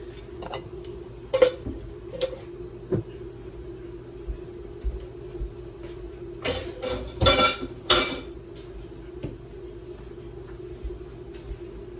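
Dishes, pots and cutlery clatter and clink as they are carried to a kitchen sink. Scattered sharp clanks come early, then a denser burst of knocks near the middle, all over a steady low hum with no talking.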